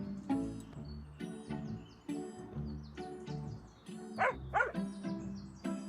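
Dog barking in the House Flipper 2 pets game trailer, repeated barks in a steady rhythm over trailer music, with a few bird-like chirps mixed in.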